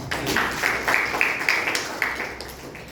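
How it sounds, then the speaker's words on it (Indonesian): A church congregation claps together during a sermon, a close, fairly loud patter of hands with distinct bursts in an uneven rhythm, fading slightly toward the end. "Berikan tepuk tangan bagi nama Tuhan."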